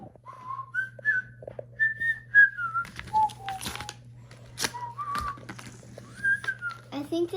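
A Sprunki Tunner toy figure gives a series of short rising and falling whistled notes, clear and fairly close, with a steady low electronic hum beneath and scattered handling clicks.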